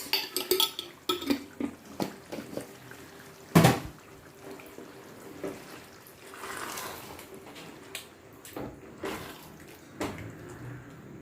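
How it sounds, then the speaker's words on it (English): Jar being rinsed with water in a home kitchen while making penne alla vodka, splashing and running water with clinks of glass and utensils, a loud knock partway, close and intermittent without talk. "Going to give the jar a quick rinse just to ensure that we got everything out."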